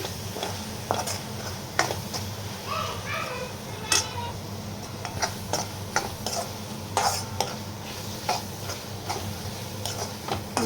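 Masala gravy for liver thokku frying in oil in a pan and stirred, with repeated scraping clicks and taps of a spoon against the pot over a steady low sizzle, no talking.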